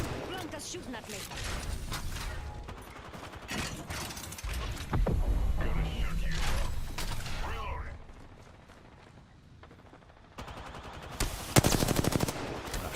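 Rapid machine-gun bursts and scattered gunfire in a squad-based shooter video game, loud clusters of shots coming in waves with quieter gaps, while players talk over the action.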